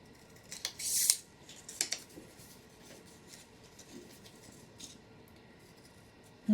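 Scissors cut tabs from a journal kit, giving a few crisp, close snips early on, then faint rustling and quiet handling.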